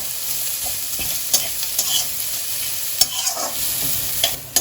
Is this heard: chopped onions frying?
yes